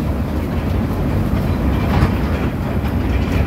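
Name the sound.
mini train running at Jungle Land park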